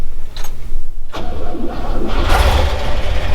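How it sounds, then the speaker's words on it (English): A car engine fitted with a Holley Sniper EFI conversion cranks briefly and catches without throttle, then settles into a loud, steady idle close by with no talking. "every single time the Holley will do its job, and it works beautifully"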